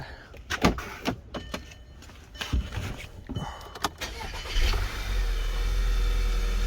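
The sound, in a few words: 2009 VW Tiguan engine starting up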